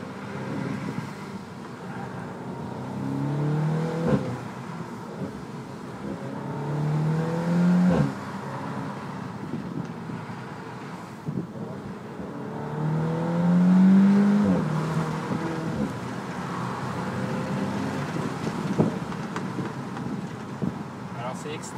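An Audi S3 S-Tronic with 300 hp drives and accelerates, its engine a steady low drone that swells and recedes, heard from inside the car under continuous talk.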